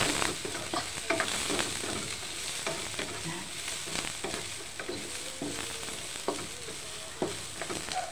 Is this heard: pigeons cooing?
no